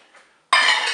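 A utensil stirs diluted cornstarch into vanilla cream, a quiet clink followed by a sudden loud, scraping rush of mixing against the pot, close and brief with no talk.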